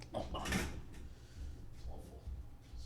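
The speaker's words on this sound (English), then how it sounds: "I gotta close the window." An apartment window being closed: a quick scraping slide and a soft thump near the start, followed by faint rustles and low room noise.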